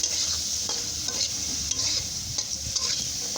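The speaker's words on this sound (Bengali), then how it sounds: "আর আমি একটু সবুজ সবুজ করেই এই লতিটাকে ভাজবো" Taro stolons frying with hilsa fish heads and turmeric, a steady bright sizzle with occasional scraping stirs, close and continuous.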